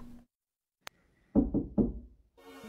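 Three firm knocks on a door ring out close by in a quiet room, preceded by a single sharp click, with a low murmur returning afterward.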